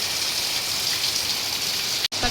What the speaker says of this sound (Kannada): ನೋಡ್ರಿ ಎಷ್ಟು ಮಳೆ ಬರ್ತಾಯಿದೆ